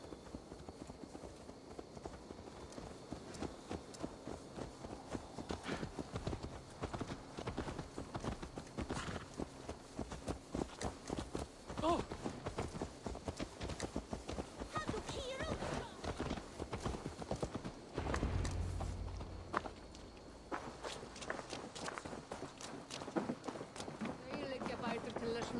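Horse hooves pounding at a gallop in Assassin's Creed Valhalla, a steady rapid clip-clop running throughout under game music and effects, with voices talking over it.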